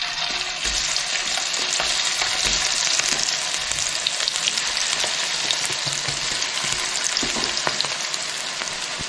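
Jackfruit pieces for jackfruit chilli fry in hot oil with a dense, continuous crackling sizzle, close and even throughout with no talking.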